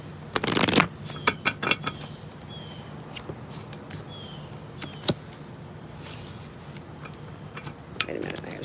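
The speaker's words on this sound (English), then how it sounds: "Wait a minute, I gotta shuffle these a little bit better." A deck of tarot cards is shuffled by hand in a quick riffle burst, followed by scattered soft taps and card flicks over quiet background noise.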